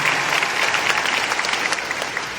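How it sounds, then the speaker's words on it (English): Loud, steady applause from an audience at a Duck Dynasty appearance in Auburn, Alabama, dense crowd clapping that holds evenly and close throughout, with no voices on top. "you can give some applause"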